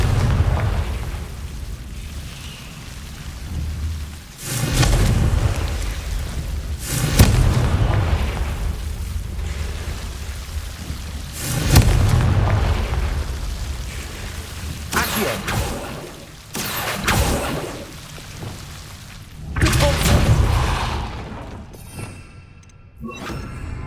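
Repeated booming blasts of the Confringo fire spell in the Hogwarts Legacy video game, several heavy explosions a few seconds apart, with game speech mixed in.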